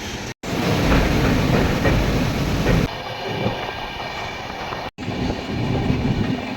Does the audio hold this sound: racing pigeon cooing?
no